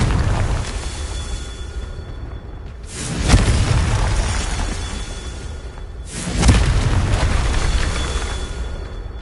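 Two heavy Confringo spell blasts from Hogwarts Legacy, each a loud boom with a whooshing, rumbling decay, landing about three seconds apart with no talk over them.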